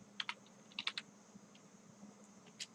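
Typing sample text on a computer keyboard, a few quiet, close clusters of keystrokes spaced irregularly over a faint steady room hum.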